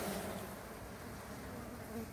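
Honey bees buzzing at a beehive colony, a dense, steady hum of many insects close by, continuous and fairly even in level with no voices.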